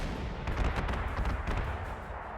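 Artillery barrages in the strategy game Panzer Corps 2 rumble in a dense, continuous roll of booming blasts, heavy and close throughout, with no voices.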